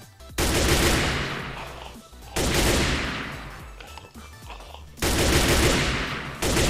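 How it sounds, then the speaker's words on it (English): Bursts of M4 rifle gunfire in the game Manufactio come in three loud, sustained volleys, each trailing off before the next burst starts, with no talk over them. "a demonstration of the M4, of course"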